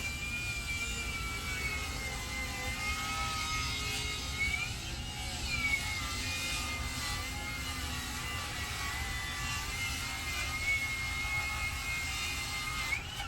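A Metabo HPT cordless power saw running on a T-PWR battery cuts through wood: a loud, steady high-pitched motor whine that sags and recovers slightly under load, continuous throughout.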